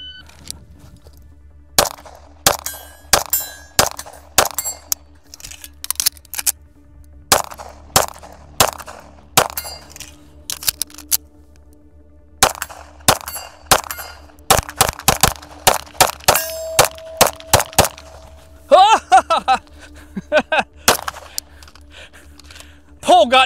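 Atlas Apollo pistol firing at long-range steel targets, rapid strings of sharp shots in bursts with brief pauses, a faint steady hum underneath and a voice speaking between strings.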